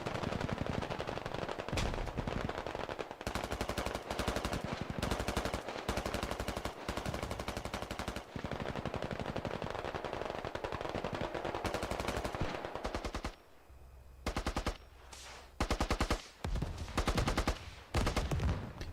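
Rapid machine-gun bursts and gunfire crackle almost nonstop in a military video game battle with infantry, rockets and a BRDM armored car, loud and dense before breaking into shorter separated volleys near the end.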